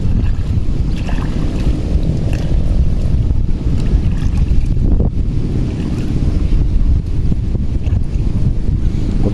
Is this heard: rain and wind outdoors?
yes